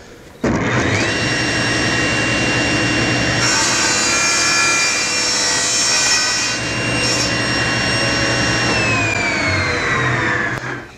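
A power saw whines steadily through a wooden axe handle, trimming a corner at 50 degrees: a loud, continuous high-pitched cut lasting about ten seconds with a sustained tonal hum and slight pitch drop near the end.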